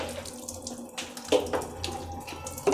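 Water streams steadily from a Hitech booster pump feeding an RO purifier with a 100 GPD membrane and 650 cc flow restrictor, a continuous close splashing flow with a few louder spurts and no talking.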